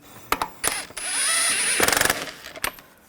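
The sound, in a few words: ratchet snugging wheel lug nuts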